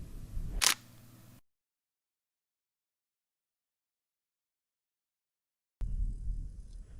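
A DSLR camera shutter fires once at 1/3 of a second, a sharp click that opens the exposure, then a long silence before the closing snap and some handling noise. No one speaks.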